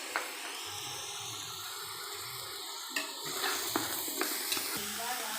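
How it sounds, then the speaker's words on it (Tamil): Mutton with turmeric, salt and mint leaves sautéing in a pan, a steady close sizzle throughout with a few scraping stirs near the end. "கறி நல்லா வணக்கலாம் ஃப்ரெண்ட்ஸ்."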